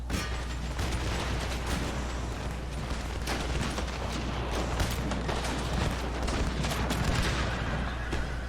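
In Empire: Total War, massed musket volleys crackle dense and continuous, with a roaring battlefield rumble underneath and no pause across the stretch.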